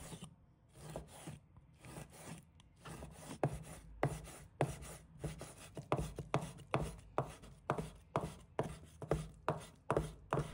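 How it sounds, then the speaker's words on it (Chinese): A knife chopping lean meat finely on a board, a quiet but close run of rapid, regular strikes that quicken and grow steadier toward the end, with no speech. "再准备一块瘦肉，把它切成碎。"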